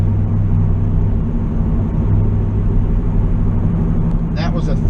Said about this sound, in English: That was a 3/4 throttle, not even 3/4 throttle shift, and it flared like crazy.